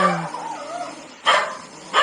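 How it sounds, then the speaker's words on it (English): A dog barks and yips in short bursts, two sharp barks standing out after an opening whine, fairly close by. "The dogs are going mental at it."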